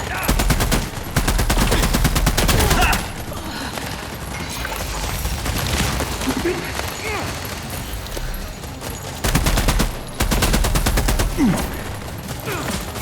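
Sustained automatic gunfire rattles through a sci-fi shooter firefight in The Expanse: Osiris Reborn, loud bursts at the start and again near the end with quieter combat noise between, while in-game voices call out.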